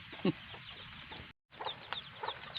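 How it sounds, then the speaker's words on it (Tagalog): A hen clucks in short, soft bursts at close range, a few scattered calls with a brief silent gap midway and faint outdoor background. "napakaamo ng manok na ito madaling mahuli ito"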